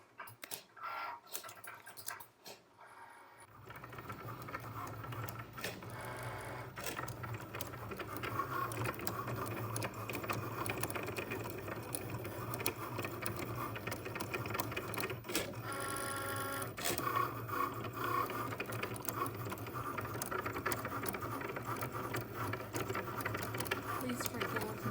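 Cricut cutting machine calibrating and then cutting stickers, giving a busy mechanical whir with clicks, ratcheting and motor buzzing that starts after a few seconds and runs steadily, close and fairly quiet, with a person talking over it at points.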